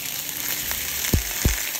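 Burnt end dumplings sear in a hot pan with a continuous close sizzle and two louder thumping knocks near the end, with no talking.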